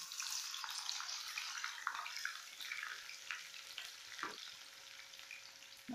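Jackfruit pieces frying in hot oil, a continuous crackling sizzle with bright spitting pops scattered throughout, close and fairly quiet, with a few low stirring knocks.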